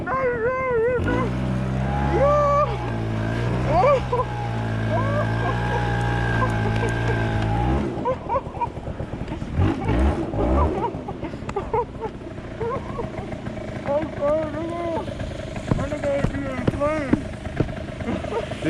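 A Kawasaki KX60 dirt bike engine revs during a snowstorm ride, droning loud and steady at first with shifting pitch, then dropping to a rougher, uneven note as the bike circles, with people talking and shouting over it.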